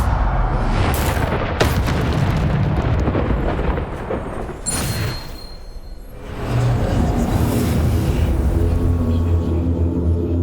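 Bombarda spell blasts in Hogwarts Legacy: loud, heavy booming explosions roll through most of the stretch, with a brief quieter gap before the rumble surges back at full strength.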